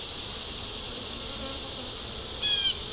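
Honey bees buzz at a hive, a steady, close, continuous drone of many insects with one brief louder pass near the end, no voices.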